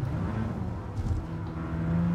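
A Mazda RX-7 FC rotary engine idles and revs in Gran Turismo Sport, a steady, close mechanical drone with a brief rise in the middle and a firmer hum building toward the end.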